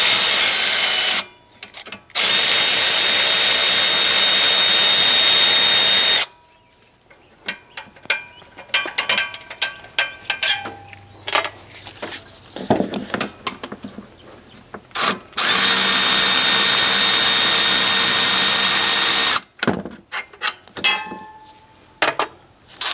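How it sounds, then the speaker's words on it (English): Milwaukee battery-powered ratchet backing out alternator bolts on a Chevy Silverado, with loud sustained mechanical whirring bursts separated by clicks, clatter and handling noises, heard up close without speech. "I have my Milwaukee battery powered ratchet here to just speed things up."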